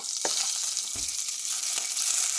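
Ginger and garlic fry in hot oil for a Kerala-style crab curry, giving a steady close sizzle broken by a few soft stirring knocks, with no talk.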